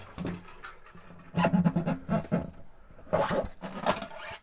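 Loosened strings being yanked off a Martin D-18 acoustic guitar, bursts of rough scraping and rubbing with a brief buzzy ring, in two separate pulls.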